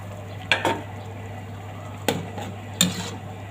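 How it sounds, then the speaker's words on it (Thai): Stir-frying in a pan with a dry fry, three distinct scraping clatters of a utensil against the pan over a steady low hum, with faint sizzling between. "เมนูเนี่ยจะผัดให้แห้งๆนะทุกคน"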